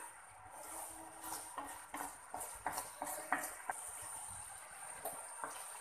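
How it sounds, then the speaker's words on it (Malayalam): Tomato jam being stirred in a cooking pan, faint soft scrapes and taps of a spoon against the pan in an irregular rhythm, with a thin steady hiss beneath and no talk. "കുറച്ച് നേരം കൂടി നമുക്കൊന്ന് ഇങ്ങനെ ഇളക്കി കൊടുക്കാം."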